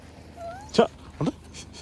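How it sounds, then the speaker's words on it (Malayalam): Two short whimpering yelps from a dog, close by, separated by a pause, with a faint whistle-like tone and low background hum. "ഈ പട്ടികൾ അതേ കുറച്ച് പട്ടികളുണ്ടായിരുന്നു"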